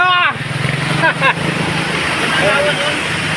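A loud motorcycle engine with an open exhaust pipe roars and revs nearby with a raw, unmuffled exhaust on a flooded road, while people talk over it.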